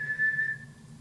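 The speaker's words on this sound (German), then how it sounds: "Bitte hinterlassen Sie nach dem Pfeifton eine Nachricht." An answering machine beep sounds as a single clear, steady electronic tone for about half a second, then fades into a quiet low hum.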